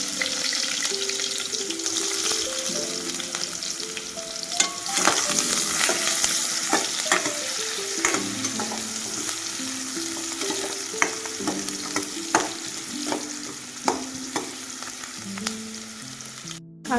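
Onion frying with garlic in a hot pan, a steady loud sizzle with repeated scraping and stirring of a spatula against the pan, close up and without talk.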